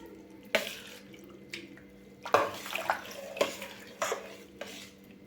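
Homemade butter from cream is washed by hand in water, producing irregular sloshing splashes and stirring swishes with a few sharper water slaps, close by and with no talking.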